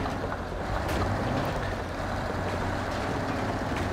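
In a SnowRunner off-road game, a Western Star truck with off-road tyres pulling a trailer rumbles under throttle as a low, steady engine roar with broad noise, and nobody speaks.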